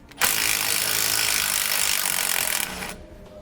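A power tool backs out a sway bar bolt on a 2006 Winnebago motorhome's rear suspension, a loud steady whir running nearly three seconds before cutting off, close by with no talk.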